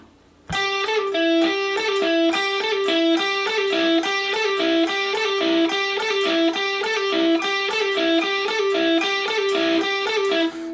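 Electric guitar plays a quick, repeating rhythmic riff with pull-offs, rapid note changes, steady and driving, bright tone, no talking.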